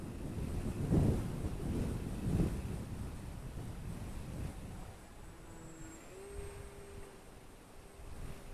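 Strong wind buffets the microphone outdoors while an RC Yak54 EPP aerobatic plane flies, a steady roar with heavy low gusts near the start, and the faint whine of the small electric motor rising later.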